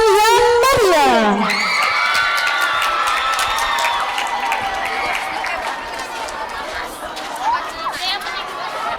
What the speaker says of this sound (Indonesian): dari tepuk tangan yang meriah